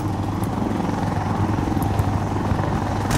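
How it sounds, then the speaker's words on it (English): A helicopter flies overhead in the war game Insurgency Sandstorm, its loud rotor roar a continuous rumble with no voices over it. "that chopper's just shaved me"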